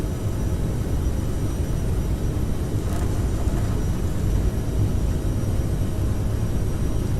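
A CRJ700 jet in Microsoft Flight Simulator at takeoff power rolling down the runway, a steady, dense engine roar and rumble holding constant throughout.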